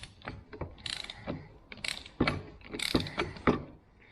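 A torque wrench is loosened to reset its setting during a front axle rebuild, giving a close series of uneven mechanical clicks and ratcheting knocks.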